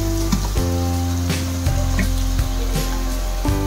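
Ridge gourd slices fry in a pan with a steady loud sizzle, broken by a few soft knocks and stirring touches, close and continuous with no talk.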